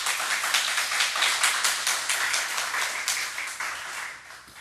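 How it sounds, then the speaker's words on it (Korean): A church congregation applauds during a Sunday worship service, a dense burst of many hands clapping together that starts full and gradually thins and fades toward the end. "자, 박수로 돌립시다."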